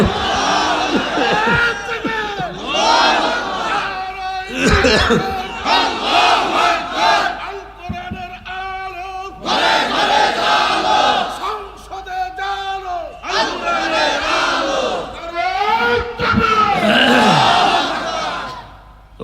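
A large crowd at an Islamic sermon gathering answers a takbir call by shouting Allahu Akbar in unison, in loud, sustained chants repeated in several waves with short pauses between.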